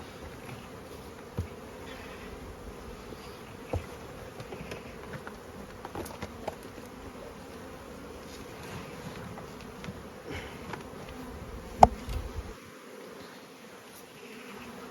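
Honeybees from a nucleus colony hum steadily at close range while being transferred into a full-sized hive, a continuous drone with a few faint knocks of equipment.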